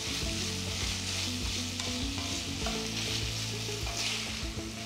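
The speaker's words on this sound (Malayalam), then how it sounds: "ഉരുളക്കിഴങ്ങും ക്യാരറ്റും ചേർത്തിട്ട് ഞാൻ 2-3 മിനിറ്റ് ചെറിയ ഫ്ലെയിമിൽ കുക്ക് ചെയ്യായിരുന്നു." Potatoes and carrots cooking gently on a low flame for a vegetable stew, giving a steady, soft sizzle and bubbling that runs without a break, with no voices.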